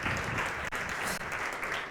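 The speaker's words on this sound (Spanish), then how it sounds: "gracias por el aplauso y la bienvenida" Dense, steady applause from an audience welcoming a speaker at a talk, a loud continuous wash of many hands clapping with no pause across two seconds.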